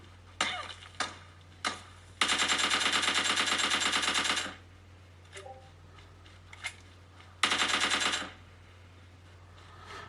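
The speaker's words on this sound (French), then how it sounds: "il y a un mec qui me tire dessus" Gunfire from enemies in a smartphone shooter game: a few single shots, then two long rapid bursts of automatic fire, played at moderate level with quiet gaps in between and no talking.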